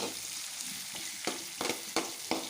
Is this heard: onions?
yes